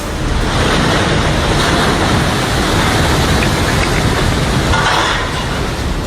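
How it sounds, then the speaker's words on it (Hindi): Storm-driven sea waves crashing on the shore during Cyclone Nivar, a loud continuous roar of surf mixed with wind buffeting the microphone, swelling slightly toward the end. "निवार तूफान की आहट के साथ ही समंदर में 40 से 50 फीट ऊंची लहरें देखने को मिली"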